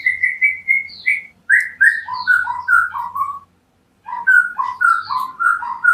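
Clear, loud song of a white-rumped shama, with rich whistled phrases and rapid varied notes, repeating in bursts with a brief pause in between.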